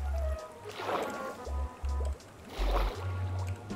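Flowing water in the Minecraft video game, a soft trickling, bubbling stream heard in two swelling washes over low game background tones, no talking.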